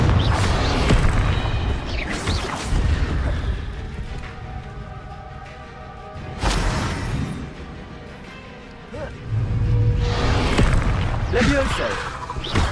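Fiery Confringo spell blasts from Hogwarts Legacy on PS5, several loud booming explosions bursting at intervals with crackling debris between them and game ambience underneath.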